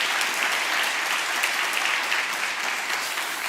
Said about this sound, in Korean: 일어서시면 환영의 박수 드리겠습니다